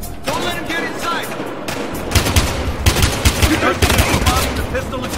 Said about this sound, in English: The pistol and shotgun fire.